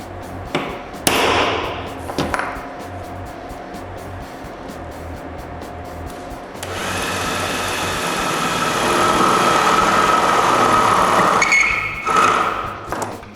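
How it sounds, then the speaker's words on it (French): A drill bores holes through wood while the builder fits out a new workshop, its steady motor whine rising after a few knocks and thumps, loud and close. "Puis, il ne me reste plus qu'à percer les 3 trous."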